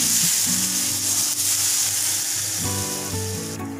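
Hot pure ghee poured over sweet zarda rice bursts into a loud, steady sizzle, with a bright crackling hiss that holds throughout and a few clinks of a utensil stirring.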